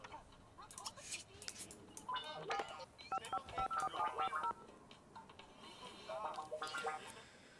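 Telephone keypad tones from The Sims 2, with several quick series of dialing beeps in the middle and near the end. They play over game sounds and a faint voice in the background.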